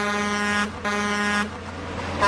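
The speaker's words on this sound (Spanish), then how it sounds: "A lo lejos, te percatas de que un claxon de tráiler te ha despertado de repente." A truck's air horn blares in two long, loud blasts with a brief gap between them, followed by low, steady engine rumble.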